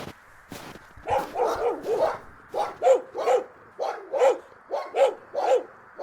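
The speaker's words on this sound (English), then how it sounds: "The dogs keep barking." Dogs kept in a kennel bark again and again, a close, loud run of about a dozen sharp barks in a fairly steady rhythm with short gaps between them.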